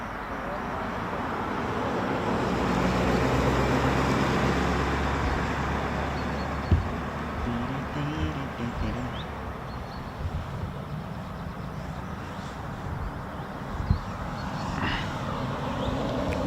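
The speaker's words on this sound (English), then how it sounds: "We'll just see these F-35s off." US Air Force F-35 fighter jets of the 48th Fighter Wing depart RAF Lakenheath. A heavy, distant jet roar rises and slowly fades over many seconds, with a couple of sharp knocks near the listener.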